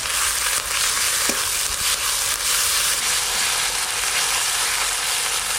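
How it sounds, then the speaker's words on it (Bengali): Chopped onions sizzle steadily in hot oil as ginger-garlic paste goes in for a duck egg and cabbage curry, giving a continuous close frying hiss with no voices. "পেঁয়াজ কুচিগুলো ভালো করে ভাজা ভাজা করে নিয়েছি, আর কালারটাও চেঞ্জ হয়ে গেছে। এবার আদা রসুন বাটা দেবো"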